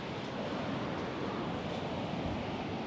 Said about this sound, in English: everyone is in the water and the waves are looking pretty good tonight